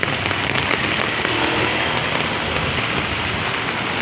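Heavy rain pours down continuously, a dense, loud hiss of drops striking surfaces with no pause and no voices.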